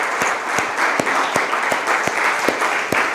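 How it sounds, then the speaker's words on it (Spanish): Church congregation applauding loudly and continuously, a dense wash of hand claps with a few sharper, closer claps punctuating it. "¿Cómo no darle un aplauso más grande al Señor?"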